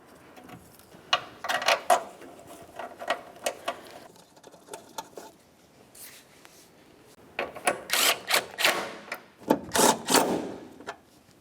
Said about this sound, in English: we'll line up both of our mounting bolts, start them in, and snug them up